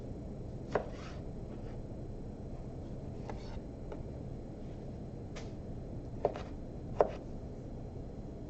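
Knife chopping diced tomato on a cutting board: several sharp, distinct taps spaced irregularly, with a few stronger strikes near the end, heard up close over a low, steady background hum.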